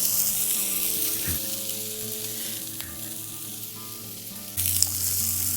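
Smash burgers and toasting buns sizzle loudly on a griddle, a continuous hiss with a few scrapes and a sudden louder burst of frying near the end.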